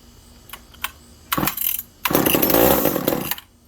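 A McCulloch Power Mac 6 chainsaw is pull-started: a few short cord pulls and sputters, then the two-stroke engine catches and runs roughly for over a second before cutting out, close up.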